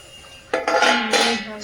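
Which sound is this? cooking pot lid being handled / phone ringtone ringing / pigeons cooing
cooking pot lid being handled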